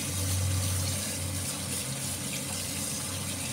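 Steady running tap water rinses blood from a freshly gutted, cleaned fish, a continuous close splashing flow with no talk.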